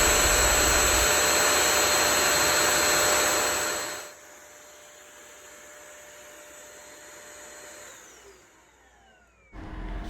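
A Eureka Forbes Euroclean Zero Bend Mop n Vac vacuum cleaner runs with a loud steady motor whine, then drops to a quieter, lower drone that spins down before a brief burst of noise returns.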